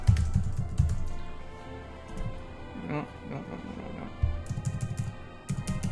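Typing on a computer keyboard: bursts of quick, close clicky keystrokes at the start and end, a quieter stretch in between, and a brief spoken word in the middle.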